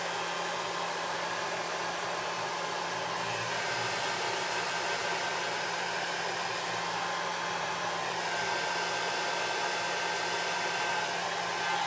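A hair dryer blows steadily on low heat while drying hair, a constant close whooshing roar that holds unchanged the whole time, with no talking.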